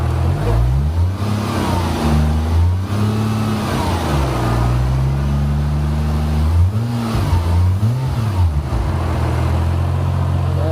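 A car engine revs repeatedly, rising and falling in pitch, loud and close, with no talking.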